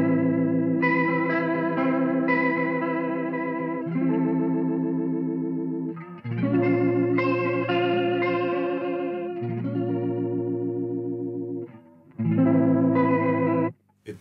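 Electric guitar run through a Danelectro Billionaire Big Spender spinning speaker pedal, sustained chords swirling with a warbling rotary chorus, played in long phrases that pause briefly between sections, close and moderately loud.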